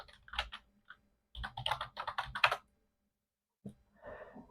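Fingers type a search on a computer keyboard, close and crisp key clicks in two short bursts, a brief flurry then a quicker run of strokes, with a softer patter at the end.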